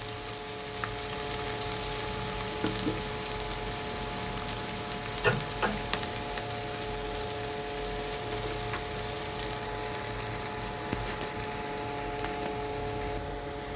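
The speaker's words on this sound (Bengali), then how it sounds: "এখন আমি পেঁয়াজ, মরিচ, আদা, রসুন সব কিছুকে ভেজে নেব বন্ধুরা, একটু লালচে লালচে করে ভাজবো" Chopped onion, chili, ginger and garlic fry in oil in a pan with a steady, even sizzle throughout, plus a few faint scrapes and clinks of stirring close by.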